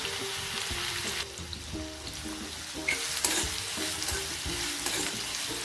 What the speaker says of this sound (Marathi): आपलं तेल गरम झालंय आपण त्यात अर्धा चमचा मोहरी घालणार आहे